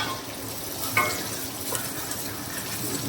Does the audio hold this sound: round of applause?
no